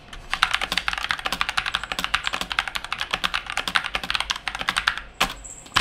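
Rapid, steady typing on a budget basic mechanical keyboard, crisp clacky keystrokes in a dense continuous run with a few louder hits, close up and alone without speech.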